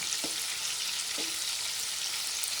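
Squid heads shallow frying in hot oil, a steady broad sizzle throughout with a couple of brief low clunks as pieces shift in the pan, no voices.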